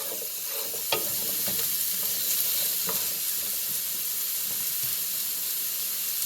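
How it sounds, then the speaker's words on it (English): Garlic frying in a pan gives a continuous bright sizzle throughout, close and fairly loud. Occasional stirring clicks and scrapes cut through the hiss. "Our garlic, make sure it doesn't get burned."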